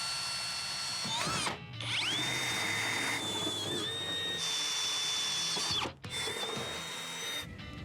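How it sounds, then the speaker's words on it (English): A drill bores a large hole into the side panel of a Jeep being readied as a racecar, a steady high whine running loud and close for several seconds, briefly stopping twice before spinning up again. "This is a big hole to be drilling into the side of a Jeep."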